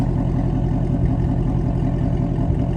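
A stock Ford Shelby GT350 engine idles with a steady low rumble, fairly loud and close, with no talking.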